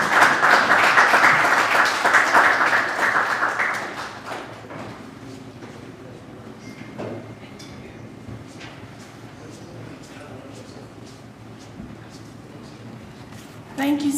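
Audience applause at a West Africa regional youth convergence fills the first few seconds with loud, dense clapping, then fades into quieter room sound with scattered taps before a brief burst returns at the end.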